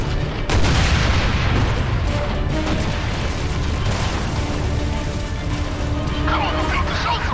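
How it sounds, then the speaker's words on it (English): Heavy gunfire and explosions in the Gears of War 2 battle game form a dense, loud, continuous barrage of booms and rattling shots, with voices shouting at times under the din. "We're still under heavy fire from our left flank!"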